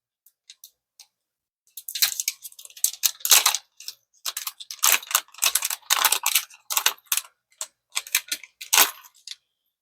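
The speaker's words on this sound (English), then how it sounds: "Let's get this one out of the package." Plastic packaging crinkles and crackles as a fishing lure is pulled free from its retail package, with a few sparse clicks first, then dense, irregular bursts of close rustling and no talking.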